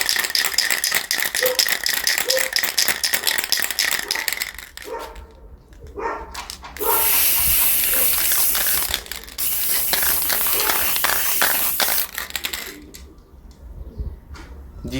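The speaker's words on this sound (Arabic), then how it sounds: "هنرش الاول الهاي ستيك سبراي" A high-gloss spray paint can is shaken hard, its mixing ball rattling in fast continuous strokes, then broken up by loud bursts of hissing spray, all close up.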